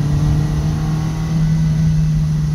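A Lancia Fulvia's engine hums steadily close by in fourth gear of its 5-speed, holding a droning pitch with a slight dip and rise, like a revving motor.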